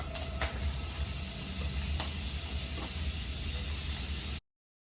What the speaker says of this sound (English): We're about to add about 3 tablespoons of butter